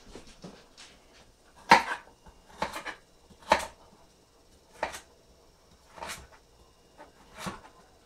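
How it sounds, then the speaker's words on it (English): A knife cuts carrots on a board, giving irregular, separate sharp taps, some stronger than others, spaced out over several seconds in an otherwise quiet kitchen. "Now that we've cut all the carrots, I'm going to toss them in."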